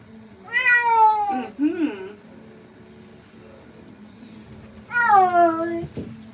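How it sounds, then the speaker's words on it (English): A cat being groomed lets out two long, drawn-out low grumbling moans, the first near the start and the second after a quiet pause, fairly loud and close. "You hear that low grumble?"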